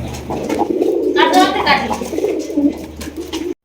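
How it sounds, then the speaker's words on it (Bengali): A pair of Giachli pigeons coo in soft, rolling bursts at close range, with a murmuring human voice partly underneath. "দর্শক এখানে রয়েছে একজোড়া গিয়াচলি কবতর"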